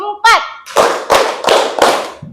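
Junior high school students in a classroom clap a counted pattern, four sharp group claps in a steady rhythm, preceded by a teacher's voice.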